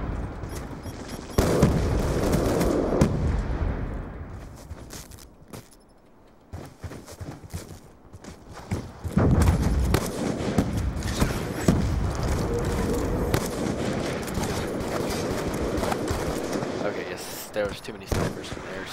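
Gunfire in Black Ops 2 on the Air City map, dense bursts of shots and booms running almost continuously, with a short lull midway, close and loud under excited talk.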